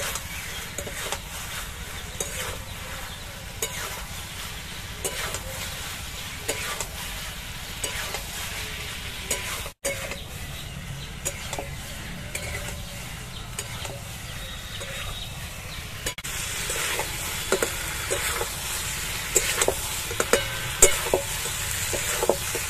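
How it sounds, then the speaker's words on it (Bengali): Cabbage manchurian being stirred with cornflour in a frying pan, a steady sizzle under repeated scraping strokes of a spoon against the pan, continuing for over twenty seconds with no talking. "কর্নফ্লোর দিয়ে আবার ভালো করে নেড়ে নেব।"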